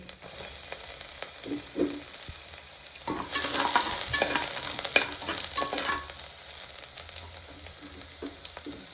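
Ginger and garlic fry in a pan with urad dal for South Indian tomato rice, giving a close steady sizzle with occasional stirring scrapes that swell midway and then settle.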